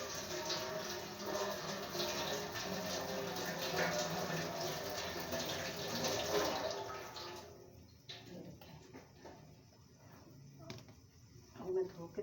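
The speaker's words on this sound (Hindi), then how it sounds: "मैं उसको धो लूँ पहले, टोकरे के अंदर धो के डाल देती हूँ।" Fresh coriander is rinsed in a basket under running water, a steady broad splashing wash for about seven seconds that stops abruptly, leaving faint drips and small handling sounds.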